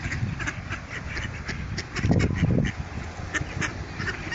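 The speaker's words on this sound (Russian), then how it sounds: "утки, смотри, как сражаются за место под солнцем" Wild ducks quack loudly and repeatedly while squabbling over food at close range, a busy overlapping chorus with a denser burst of scuffling noise midway.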